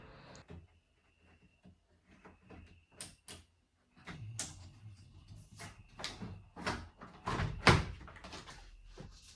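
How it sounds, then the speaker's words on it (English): Car door trim panel pressed back onto the door during a power window regulator replacement: a close run of sharp plastic clicks, knocks and thumps, sparse at first and then quicker and louder, with no talking. "carefully work the door panel back into place"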